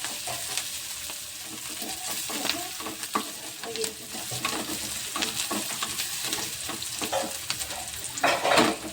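Chopped onion and curry leaves fry in hot oil for a samosa filling, making a lively sizzle with frequent spatula scrapes and stirring clatters close by, rising to a louder burst near the end.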